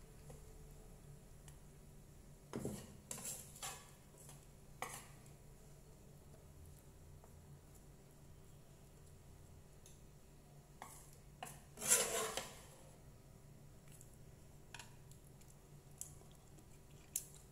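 Stir-fried bitter melon with garlic being scooped from a pan onto a plate: scattered soft scraping and clinking of a utensil and dish, with a louder cluster of scrapes midway, in a quiet kitchen without talk.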